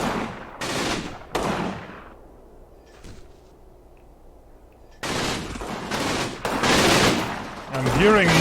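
Bursts of mortar and gunfire boom through a Combat Mission battle set on Riva Ridge, loud and close, then a quiet lull before a dense run of heavy blasts returns.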